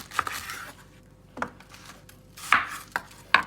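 Cabbage being cut with a knife on a cutting board, a handful of close, crisp chops spaced irregularly with quiet pauses between, loud and without talk.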